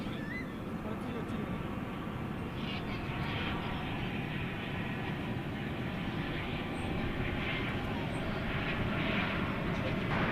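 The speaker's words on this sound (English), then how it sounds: "This is American 773 from Austin, Texas. It's an Airbus A319." American Airlines Airbus A319 arriving from Austin at night at DFW Airport, a steady broad engine roar holding for the whole stretch, fairly distant and even, with faint voices underneath.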